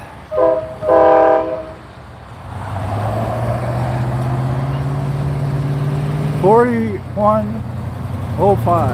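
A Norfolk Southern locomotive, NS 4105, passes with a steady low rumble of rolling cars lasting several seconds. A short horn-like tone sounds near the start, and a person talks briefly near the end.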